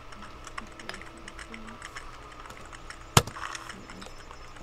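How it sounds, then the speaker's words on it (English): Keyboard typing by a character in the video game Sally Face, a rapid run of soft clicks heard at moderate level, with one sharp louder key strike standing out near the end. "Wait, what is he typing?"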